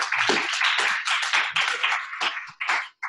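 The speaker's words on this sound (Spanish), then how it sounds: "Por favor, un aplauso para Diego" A small audience gives sparse, uneven clapping for a speaker at a talk on data and visualization. The claps come in loose bursts that thin out into a few last isolated claps.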